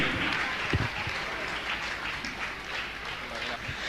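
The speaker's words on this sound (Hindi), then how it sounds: "हमारी तालियां, हमारी करतल ध्वनि इनके बहुमान को संवर्धित करेगी।" An audience claps steadily and densely throughout a religious gathering, with a continuous wash of many hands at moderate loudness and a voice speaking faintly underneath.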